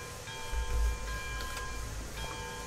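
Steam locomotive hauling a fully loaded log train in the game Railroads Online, a steady low chuffing rumble with faint high tonal ringing, the bell kept going throughout at moderate distance.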